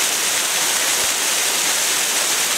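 Yellow Bamboo Falls, a waterfall on a hiking trail in Japan, roars loud and steady with dense, continuous rushing water and no other sounds.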